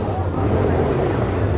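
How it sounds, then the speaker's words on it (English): A car engine revs with a low droning roar at a night car meet outdoors, steady and fairly loud with wind buffeting the microphone. "He's still revving it like an idiot"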